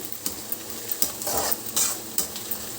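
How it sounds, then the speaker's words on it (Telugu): Onions frying in oil for a stuffed brinjal masala curry, with a soft steady sizzle broken by several sharp scraping stirs of a spoon against the pan, close and fairly quiet. "ఇలా కలిపేసుకోవాలి ఇదిగోండి ఉల్లిపాయలు చక్కగా వేగుతుంది"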